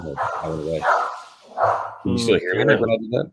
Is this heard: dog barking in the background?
yes